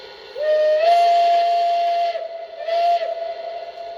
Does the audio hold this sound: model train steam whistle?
yes